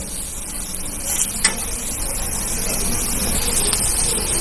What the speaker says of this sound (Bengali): ভেজে নেবেন, তাহলে ভালো ভাজাটা হবে।